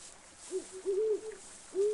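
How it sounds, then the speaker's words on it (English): Owl hooting in the distant ambience of the Colossal Cave VR game world, a few soft, tonal hoots in an uneven rhythm over a faint background hiss, with no talking. "I hear an owl in the distance."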